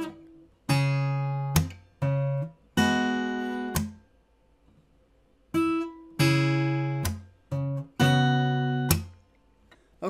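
Fingerstyle acoustic guitar plays measure 35 of a song: a close, clean passage of plucked chords and notes struck in separate bursts, each ringing and decaying, with short pauses between.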